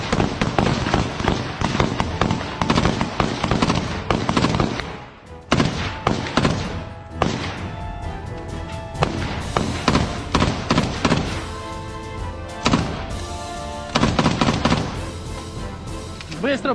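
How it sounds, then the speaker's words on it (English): Gunfire rattles through a firefight on the Eastern Front in Ukraine, with dense, continuous volleys of loud sharp shots and thuds overlapping for the whole stretch, briefly easing before resuming. "this first-person shooter video with Ukrainian combatants during a firefight at the Eastern Front"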